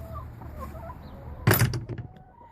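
Backyard chickens cluck close by in a short burst, several quick throaty clucks over soft background noise.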